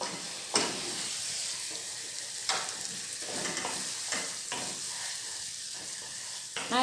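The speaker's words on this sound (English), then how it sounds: "Soy sauce. Okay, and then give it a good stir." Nasi goreng fried rice crackles in a hot pan as soy sauce is added and stirred in, a continuous sizzle punctuated by several distinct scraping strokes of a spatula.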